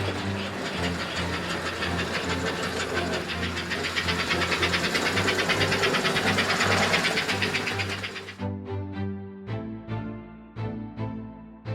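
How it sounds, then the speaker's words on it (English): A. C. Gilbert model trains running on an intricate layout give a steady mechanical chugging and rattling whir, which stops abruptly and is followed by a few separate metallic clicks. "And so are the trains that still chug along the intricate layouts."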